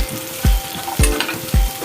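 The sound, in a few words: garlic and onion frying in oil in a pan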